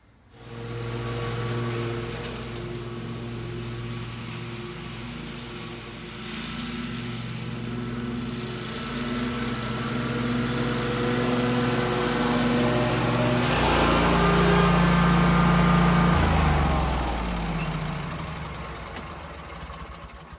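A Quick Cat riding lawn mower runs steadily while cutting grass outdoors in the heat, its engine a continuous droning hum with a rising pitch shift near the end, fairly close and alone with no voices.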